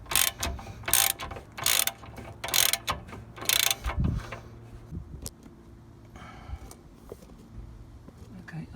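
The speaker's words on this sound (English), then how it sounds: "I'll just try to jack it up just a tiny fraction more" Car jack ratcheting to raise the rear of a Ford Mondeo Mk4 during spring work, a few sharp bursts of metallic clicking up close, followed by quieter clanks and faint workshop noise.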